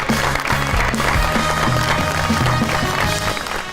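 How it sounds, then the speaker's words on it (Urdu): Studio audience applauding steadily, a dense continuous clatter of clapping hands welcoming guests onto a talk show, with no talk over it. "بہت ساری تالیوں میں ویلکم کیجیے گا جناب آغا ماجد صاحب اور سلیم البلا صاحب"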